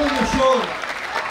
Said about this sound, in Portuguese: E aplausos também para ele.